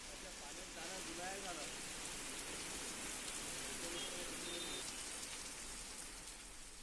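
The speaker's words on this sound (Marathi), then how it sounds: "भागांमध्ये जोरदार पाऊस झालाय" Heavy monsoon rain pours down across the Nagpur and Vidarbha region, a dense, steady hiss of drops beating on surfaces that holds constant and loud for the whole stretch, with only faint traces of other sounds beneath.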